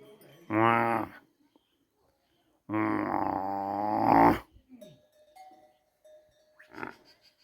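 A buffalo on a hillside farm calls twice, long deep lowing bellows at close range, followed by faint scattered thumps and a brief bit of distant noise.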